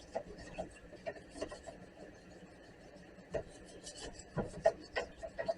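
Quiet, irregular brush scrubbing on a soaked metal train car part, soft rasping strokes at an uneven rhythm that grow a little busier toward the end, with no talking.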